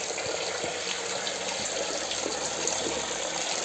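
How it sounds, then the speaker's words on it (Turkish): Spring water pours continuously from four spouts at a public fountain in Bursa, a dense, steady gushing and splashing that stays close and loud throughout without talk. "dört kurnadan akışkanlığı olan bir su"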